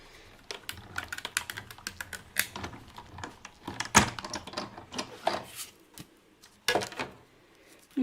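A die cutting machine cuts paper for a washi tape craft project, giving a quiet, irregular run of sharp clicks and taps over several seconds, close by.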